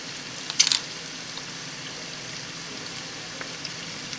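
A pan of curry chicken and potatoes sizzles steadily and softly as curry powder goes in, with a brief brighter hiss near the start, then an even frying crackle.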